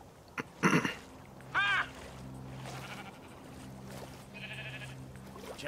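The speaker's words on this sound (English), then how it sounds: "Sheep." Sheep in Minecraft Story Mode bleat in two short calls early on, moderately loud over a steady low game music drone that continues throughout, with a brief third bleat-like sound later.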